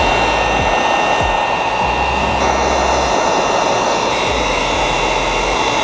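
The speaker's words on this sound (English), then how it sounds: "just apply tack solution all around the film and then just post heat all the edges" A heat gun blows a steady, loud whooshing hot-air stream while post-heating tint film on the edges of a 2020 Dodge Ram 1500 Laramie taillight, running continuously and close up with no talking.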